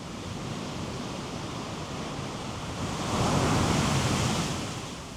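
Steady roar of surf washing on a shore, swelling louder midway as a wave breaks, then easing back; no voices.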